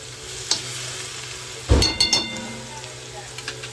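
Mustard seeds and a few curry leaves hit hot oil with a faint steady sizzle, then a sudden loud burst of crackling and spattering with a couple of metallic clinks before it settles back.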